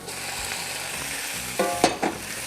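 Gizzards, liver and pork hit a hot pan with garlic for Cajun dirty rice, a steady broad sizzle broken near the end by a few sharp stirring clatters and spits, with no talking.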